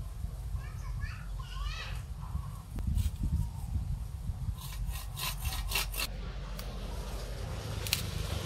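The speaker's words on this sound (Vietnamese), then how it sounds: "Giờ tôi cưa khúc ra tôi dâm cho các bạn xem nha." A handsaw rasps through a mulberry branch in short rhythmic strokes, under background chatter and children's voices in the distance.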